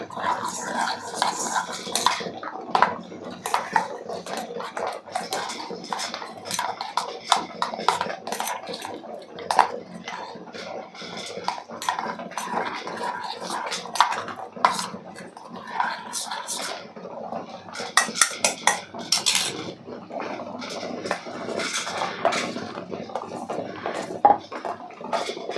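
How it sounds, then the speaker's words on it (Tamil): A spoon scrapes and clinks against a metal vessel while a kuppaimeni herbal soap mixture is stirred, irregular knocks and rattles continuing throughout, close by with some background noise. "இதெல்லாம் போட்டு நல்லா ஒன்றா கிண்டி"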